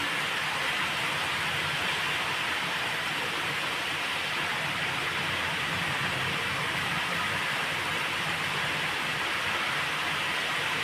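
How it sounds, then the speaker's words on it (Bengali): Heavy rain pours steadily under a dark sky, a dense, unbroken wash of hissing noise that stays loud and even from start to finish with no voices. "প্রচুর আঁধার এবং কালো অন্ধকার হয়ে আল্লাহ তাআলার অশেষ রহমতে বৃষ্টি হচ্ছে।"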